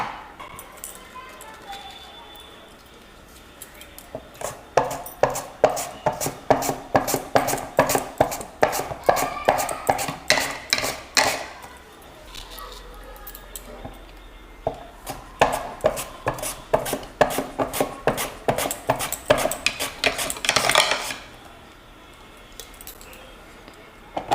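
Potatoes sliced paper-thin with a blade and hand guard for homemade chips, a fast run of crisp, regular cutting strokes in two long bursts with a short pause between, close and fairly loud.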